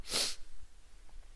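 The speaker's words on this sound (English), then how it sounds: "I'm sneezing my ass off this morning." A single loud sneeze from a person with a dry nose, a sharp burst at the very start followed by faint room quiet.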